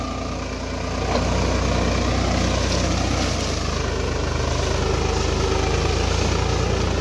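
A Farmtrac tractor engine runs steadily in a sugarcane field, a loud continuous low rumble that rises after the first second and holds alone at close range.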